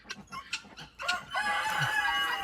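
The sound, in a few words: farm birds calling in the woods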